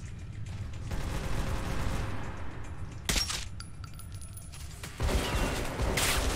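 Gunshots in Metro 2033 Redux: a couple of sharp reports stand out over a steady, noisy in-game background, with metallic clinks and debris-like rattles following them.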